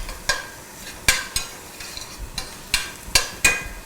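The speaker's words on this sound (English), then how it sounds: "We're gonna put the shallot and garlic in there to give all the flavor to the mushroom." Wild mushrooms with shallot and garlic being stirred in a sauté pan, a soft steady sizzle punctuated by regular sharp scrapes and taps of the utensil against the pan.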